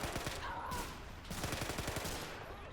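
Thompson submachine gun bursts in the Men of War: Assault Squad World War II siege battle at Mont Saint-Michel, with rapid overlapping shots, repeated bursts and other gunfire, fairly close.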